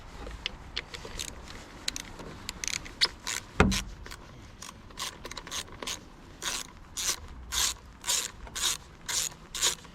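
A ratchet loosens a 10 mm bolt on a Suzuki 9.9 hp outboard, giving close, crisp clicks in a steady repeating rhythm that grow more regular toward the end, with one heavier knock partway through and no talking.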